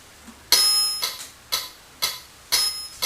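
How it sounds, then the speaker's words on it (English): A metronome ticks steadily at about two clicks per second, sharp and bright, with every other click ringing a little brighter. "So, we turn my metronome on."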